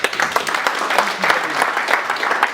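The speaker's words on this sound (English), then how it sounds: "Can you clap for her, please?" A church audience claps for a woman, a steady moderately loud round of applause with a faint voice underneath.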